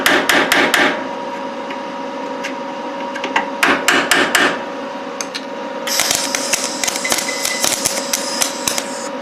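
Bursts of sharp, ringing hammer blows on metal during a Honda Civic rebuild, tapping tack-welded radiator mounting pieces down; fast clusters of close, loud strikes separated by pauses, with a steady hum in the background.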